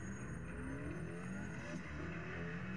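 A car races in the Sega R-Tuned upright arcade game, a steady droning engine tone with shifting pitch under faint background game sounds, quiet and continuous throughout.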